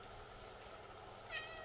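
A cat meows in the video game Stray, one short, faint mew standing alone over a low background hum near the end.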